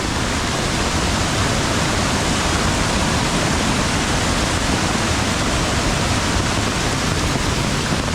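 Heavy monsoon rain in the Konkan countryside pours down in a loud, unbroken roar of dense, even hiss, close and continuous, with no voices.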